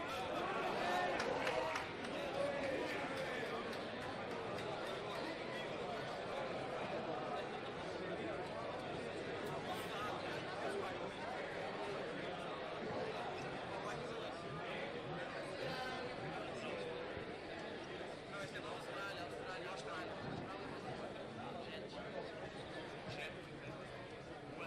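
Dense crowd chatter fills the paddock at the Motocross of Nations, a steady, loud babble of many voices with no single speaker standing out, continuing unbroken throughout.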